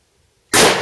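A single loud rifle shot from a Ruger Mini 14 hitting a wooden bowling pin on a shooting range, a sharp close crack after half a second of silence with a brief ringing decay.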